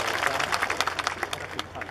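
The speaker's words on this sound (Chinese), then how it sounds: "我们是不是一起用热烈的掌声来谢谢陈竹伟" Applause from the audience at a mayoral swearing-in ceremony in Tainan, a dense patter of many hands clapping at moderate distance for about two seconds.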